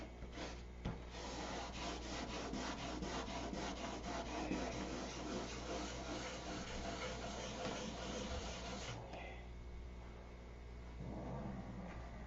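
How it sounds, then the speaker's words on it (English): Rhythmic back-and-forth scraping of fine wet sandpaper on a surface, steady strokes for several seconds before easing into quieter, slower rubbing. "trick to sanding is to keep it wet, and when it quits cutting, get a new piece"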